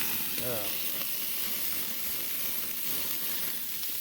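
Beef burgers sizzle on a Buzz-N-Grille grill at a backyard cookout, a steady, loud hiss that fills the whole clip, with a brief voice near the start.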